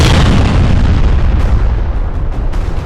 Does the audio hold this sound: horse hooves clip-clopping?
no